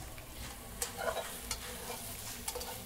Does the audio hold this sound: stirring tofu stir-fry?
yes